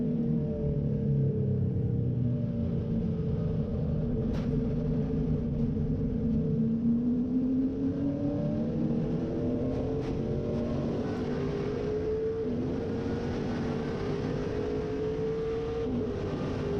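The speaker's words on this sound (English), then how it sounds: "Listen to the engine." A NASCAR race car at Daytona heard from inside, its engine a loud continuous drone with rising and falling pitch as it runs at speed, with no talk over it.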